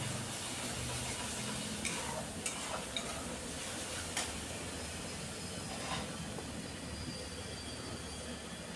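Ground spices, including red chilli powder, are sautéed in a pan for an egg curry, a broad, steady sizzling hiss with occasional soft scrapes and taps of stirring, fairly faint and without speech.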